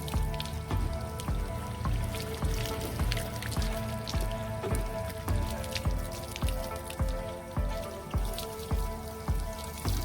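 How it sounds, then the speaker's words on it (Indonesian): Water splashes and patters over a Yamaha All New NMAX scooter as it is rinsed slowly from the top down, a steady close spray with dense irregular dripping across the whole stretch. "Setelah itu lalu siram perlahan."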